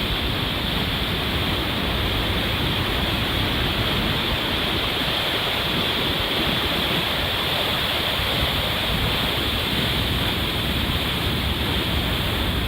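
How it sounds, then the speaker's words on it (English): A mountain river fed from Peyto Lake roars through the rock gorge of Mistaya Canyon, a loud, steady, full-bodied rush of water that continues unbroken throughout with no voices. "the water from that Peyto Lake I went to comes down this river and carves its way through the rock and made this cool canyon."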